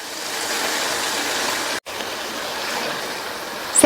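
Strained tamarind water poured into a pan of uruNdai kuzhambu curry, a steady rushing pour that runs for nearly four seconds, briefly breaks off partway, then resumes with a small clatter at the end.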